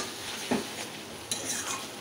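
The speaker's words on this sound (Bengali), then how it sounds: "আবারও আমি চিকেনটাকে ভালো করে কষিয়ে নিচ্ছি" Chicken and chopped tomato are sautéed in a pan, with a low, steady sizzle under a couple of distinct spatula knocks and scrapes, close by, with no voices.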